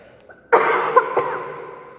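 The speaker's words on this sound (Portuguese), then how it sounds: "Desculpa, gente, a prof tá com tosse, tá?" A single harsh cough bursts out, close and fairly loud, followed by a short rough tail and a second smaller cough-like burst.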